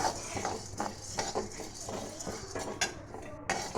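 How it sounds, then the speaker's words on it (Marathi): Dal dry-roasting in a pan without oil, stirred continuously, a utensil scraping and clinking against the metal in an uneven rhythm, with dry rustling of the grains underneath. "डाळ भाजताना त्याला सतत हलवत राहावे जेणेकरून ती डाळ जळणार नाही"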